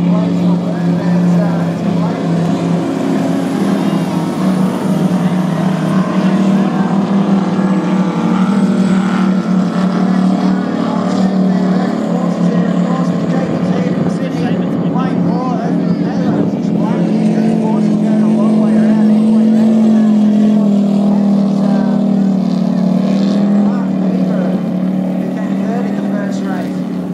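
Ski racing powerboats roar past in a continuous loud, steady engine drone that swells slightly as they pass, with a commentator talking over it throughout.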